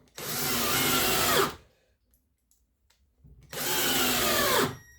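Cordless drill driver running a screw into drywall, two sustained whining bursts about a second and a half each, loud and close, separated by a short silence, no talk.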